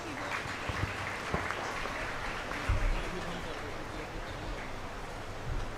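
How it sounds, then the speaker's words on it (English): An audience at a school annual function applauds in a low, steady patter of clapping, with occasional heavier thumps and some background murmur mixed in. "Please join me in welcoming Shri Ram Gopal Garg with a big round of applause."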